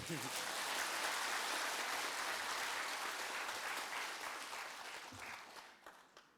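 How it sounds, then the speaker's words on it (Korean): An audience claps at a political speech event, a soft, distant but steady patter of applause that holds evenly and then tapers off over the last second or so. "두 번째 이유 끝나면 박수도 한 번 쳐주세요."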